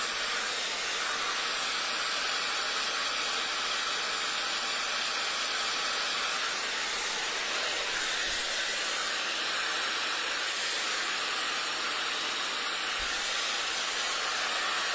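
A hair dryer blows steadily and loudly throughout, a continuous close-up airy roar with no speech, used while drying curly hair at a home styling routine.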